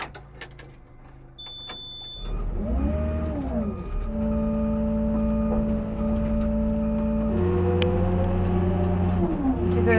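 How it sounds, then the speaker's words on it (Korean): A Hyundai Robex 140W wheeled excavator starts moving on a driving test, its diesel engine humming steadily in the cab and rising and falling in pitch as it pulls away and changes speed, close and loud. "이제 주행 테스트를 해보도록 하겠습니다."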